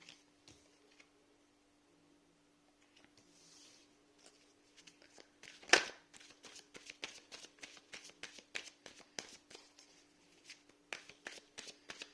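Tarot cards shuffled by hand during a Gemini love reading, a quiet rapid run of soft papery flicks and taps that builds into a steady rhythmic riffle, with one sharper snap midway and a faint steady hum beneath.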